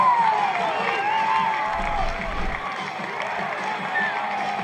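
Stadium crowd at an ultimate frisbee game cheering and whistling in a steady, distant roar, with a live commentator's voice talking over it throughout.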